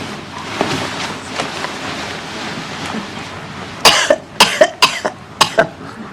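A series of harsh coughs, several in quick succession, come after a stretch of quiet rustling background noise.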